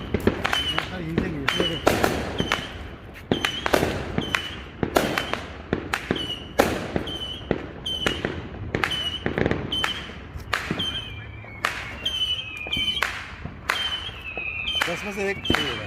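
Firecrackers burst outdoors at night during a Fourth of July celebration, a long irregular string of sharp, cracking bangs going off one after another at varying distances.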